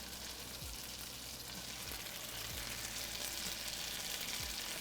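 Wet butternut squash gnocchi straight from boiling water sizzle in a frying pan, giving a dense, even hiss and crackle with faint low thumps and no voices.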